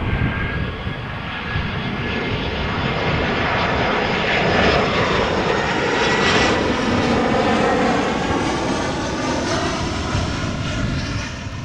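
A Boeing 747 jumbo jet on approach to Amsterdam Schiphol roars overhead, a loud, steady broadband engine rumble that swells gently toward the middle and holds without any voices.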